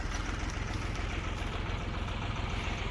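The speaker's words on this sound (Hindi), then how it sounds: "ट्रैक्टर चालू हो गए जोताई के लिए।" A tractor engine runs for ploughing, a loud, close diesel chugging in a steady low rhythm that holds at idle without any voices.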